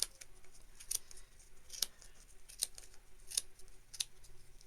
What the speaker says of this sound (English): we need to just take some little scissors. You stick them in here, and you just start cutting away